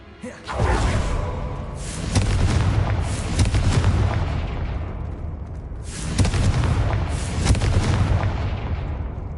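Hogwarts Legacy's Confringo blasting spell sets off repeated heavy explosions, deep booming blasts with crackling debris that rise suddenly, decay and then strike again, loud and close amid game action.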